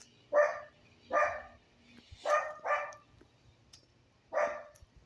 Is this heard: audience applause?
no